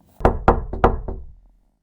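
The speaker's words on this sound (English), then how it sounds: "Suddenly there was a loud knocking at the gate." Five loud, hollow knocks on a gate strike in an uneven run, a pair, a pause, then three more, close by and followed by silence.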